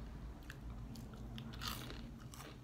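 Someone bites and chews crunchy fried chicken up close, with several crisp crunches and soft chewing over a low steady background hum.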